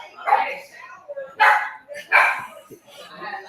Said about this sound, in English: Dogs going crazy now.